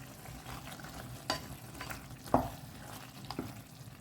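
Palak chicken stirred in a pan gives a quiet, steady sizzle with a few soft spoon scrapes and taps against the pan, close by and alone.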